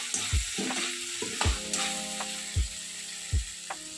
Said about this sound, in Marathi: आता मी काय करणार आहे की भरलेली वांगी एक एक त्याच्यात सोडणार आहे